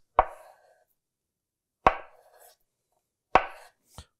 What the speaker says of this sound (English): So let's talk about serving this. You could just do nice slices